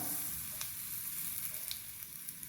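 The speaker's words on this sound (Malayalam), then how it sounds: "വെളിച്ചെണ്ണ ചൂടായി വരുമ്പോൾ നമുക്ക് കുറച്ച് കടുക് ഇട്ട് കൊടുക്കാം" Steady hiss of coconut oil sizzling in a pan with a few faint crackles and pops of mustard seeds scattered through, no voices.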